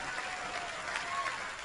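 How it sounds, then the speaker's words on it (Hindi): Brief, fairly faint applause from an audience at the Filmfare awards show, a steady wash of clapping that holds level for under two seconds. "इनके लिए भी जोरदार तालियां।"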